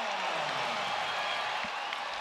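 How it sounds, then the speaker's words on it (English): An NBA basketball arena crowd buzzes after a play, a faint, continuous wash of distant cheering and murmur with no clear individual voices. "Wow, this crowd is just buzzing here."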